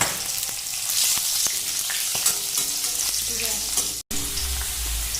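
Two ripe chillies dropping into hot oil for an egg curry, a continuous close sizzle and spatter with scattered crackles and pops and a brief dropout near the end.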